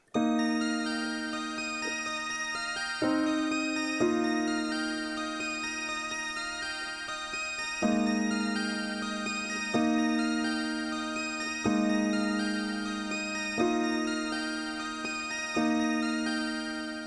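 A sequence of sustained piano chords sounds on a soft keyboard tone, each held for a couple of seconds before changing, calm and moderately quiet.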